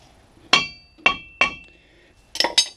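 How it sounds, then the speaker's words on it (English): Several sharp metallic hammer strikes on a brake rotor, knocking it off the hub, ring out one at a time with short pauses between, close by, then two quick hits in a row. "just a few pounds with a hammer will get that right off."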